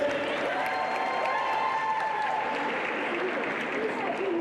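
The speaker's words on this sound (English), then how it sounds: "you're still going to clap your hands for 179 more times" Audience at a business school graduation ceremony clapping steadily and continuously, a dense even wash of applause filling the hall with some crowd murmur.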